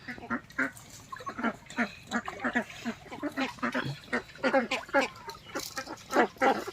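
Ducks on a farm in Assam quack in a steady stream of repeated calls, close and loud, with a voice talking intermittently among them.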